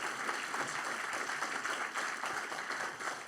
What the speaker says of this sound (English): Round of applause before we go into questions.